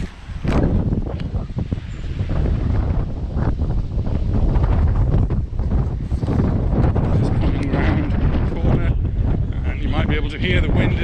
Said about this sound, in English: To hear the wind is hitting again, full strength.